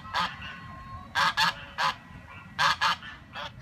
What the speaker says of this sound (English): as you can see there's a lot of geese